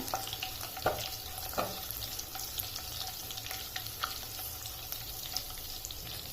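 Four whole small green chillies drop into hot tempering oil, which keeps up a steady close sizzle and crackle with a few sharp pops and spatters near the start.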